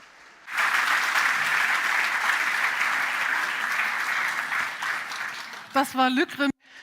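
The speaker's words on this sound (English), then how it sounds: "This was Luc Raymond, who is taking the applause home with him virtually." A crowd at the Spiel des Jahres 2024 award ceremony applauds loudly and steadily for about five seconds, the clapping thinning out before a voice begins speaking at the end.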